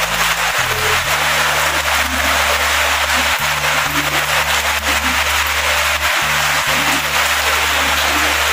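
A typhoon downpour in Daet, Camarines Norte, during Typhoon Karding gives a continuous broad hiss, steady and fairly loud, over a low humming drone that cuts in and out.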